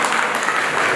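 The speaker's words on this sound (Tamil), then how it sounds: "தயவுசெய்து அனைவரும் எழுந்து நின்று ஒரு கரகோஷம் செய்யுமாறு" Steady, dense applause from a crowd gathered for a Pongal festival celebration, a continuous wash of many hands clapping at full volume for the entire second with no gaps.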